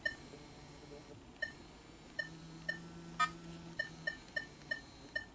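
Nokta metal detector control box giving a series of short electronic beeps, about a dozen evenly spaced clicks and tones as buttons are pressed to step through vibrate levels, with faint hum in the background.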